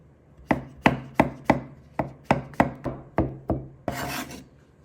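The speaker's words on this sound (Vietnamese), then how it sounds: "Nấm này em cũng cắt nhuyễn ra" Knife chopping mushrooms finely on a wooden board: about ten crisp, evenly spaced chops, close and clear, ending in a short scraping rasp.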